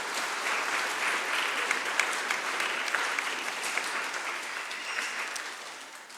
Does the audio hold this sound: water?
no